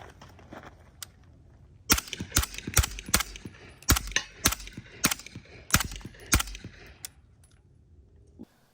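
A Sig Rattler firing 200 grain S&B subsonic ammunition, about a dozen sharp, fairly subdued shots in an uneven rapid string with brief pauses, each followed by metallic action clatter, close by and without voices.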